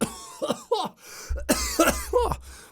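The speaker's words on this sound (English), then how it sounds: "I need to cough" Several close, harsh coughs come in two bursts separated by a short pause, loud and raspy with throat-clearing sounds.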